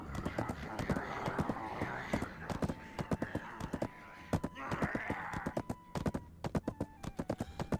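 A four-horse cart rolls by in the fantasy MMO Black Desert, its many hooves clattering in a fast, continuous clip-clop, close and fairly loud, with a brief voice-like murmur partway through.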